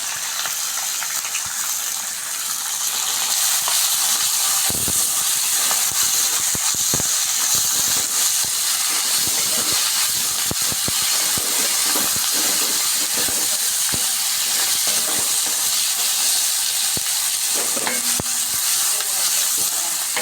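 Onion and ginger sautéing in a pan for wheat rava upma, a loud continuous hiss and crackle with irregular clicks of stirring throughout.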